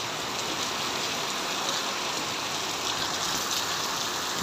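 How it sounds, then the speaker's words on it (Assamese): Steady rain falls heavily and evenly in a rural area of Udalguri, a dense continuous hiss with no pauses, loud and close throughout, with no voices. "তাৰপিছত বৰষুণো ভালেই ভালেই দিছে"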